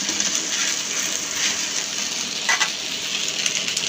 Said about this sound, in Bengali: দেখুন এখন আমি দিয়ে দিচ্ছি সয়া সসটাকে আমি মিলিয়ে নিচ্ছি।